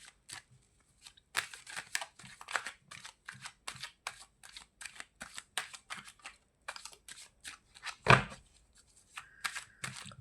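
Cards for a tarot-style reading are shuffled in quick, crisp bursts of riffling and slapping, close and fairly quiet, with short pauses between rounds and one sharper snap near the end.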